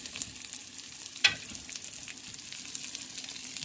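Shrimp dropped into a pan already frying bacon, corn and potato hash, a close, continuous sizzle with a sharp crackling burst as they land, no voices.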